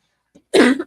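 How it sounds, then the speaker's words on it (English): A single harsh cough bursts out close up after a faint brief sound, loud and short. "y'all got me coughing"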